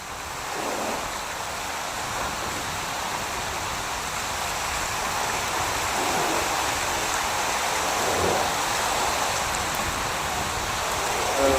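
Water pouring over three falls at a dam where people fish, a steady, loud rushing roar that continues unbroken and swells slightly toward the end.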